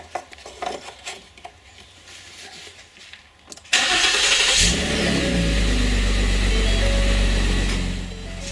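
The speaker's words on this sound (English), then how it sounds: "When you start the engine" A 2015 Ford Taurus SHO engine starts after an oil change. Quieter clinks and handling sounds come first, then the engine cranks and catches with a sudden loud burst and settles into a steady, rumbling idle.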